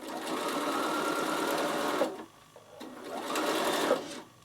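A Bernina sewing machine stitches on its standard stitch length in two loud, close bursts separated by a short pause, each run steady and whirring before cutting off.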